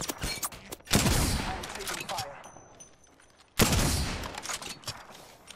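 Gunfire bursts from an Apex Legends firefight, a dense volley near the start and another loud burst in the back half, with busy game noise in between.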